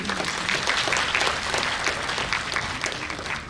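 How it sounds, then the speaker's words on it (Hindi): An audience at a national conference on vocational education breaks into strong, dense applause, a steady continuous round of many hands clapping throughout. "एक बार आप सभी से निवेदन है कि इसके लिए जोरदार ताली हो।"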